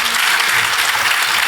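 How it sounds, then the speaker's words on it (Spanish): A church congregation applauds together during a sermon, a dense, steady wash of clapping that holds at full strength from start to finish with no voices over it. "Si puede aplaudirlo, hágalo para el Señor."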